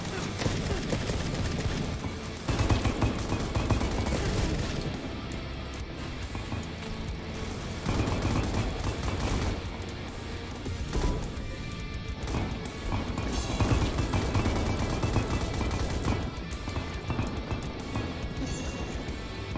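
Napalm rounds fired by flesh spider creatures in the Nightmare Reaper shooter game, heard as a dense, chaotic run of crackling impacts and bursts that continues steadily for about twenty seconds amid other game noise.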